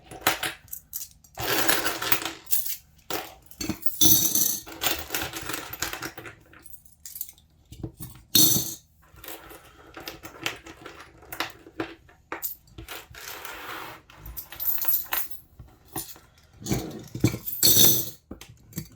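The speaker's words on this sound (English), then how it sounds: "anything that comes in coin form goes into this" Coins drop one after another into a savings container for cash stuffing, each landing with a sharp metallic clink or rattle. The drops come in irregular bursts, close and fairly loud, with short pauses between handfuls.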